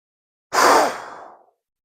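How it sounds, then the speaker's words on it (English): A single slow, deep meditative breath exhaled softly and steadily into a quiet room, rising quickly and then fading over about a second, close and isolated against silence. "The stillness breath looks like this."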